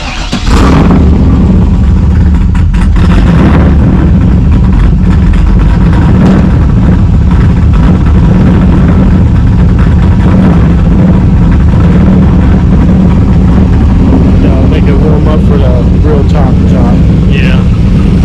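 A manual F-body car engine idles and runs with a steady, loud low rumble that fills the whole stretch, while people talk nearby over it.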